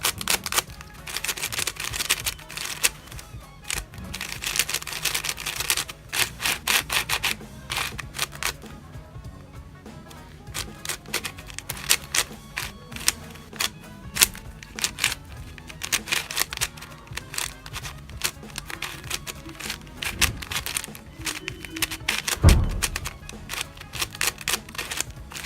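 QiYi 4x4 speed cube being turned by hand, a fast, dense run of small plastic clicks and clacks, close and fairly quiet, with brief pauses between bursts of turning.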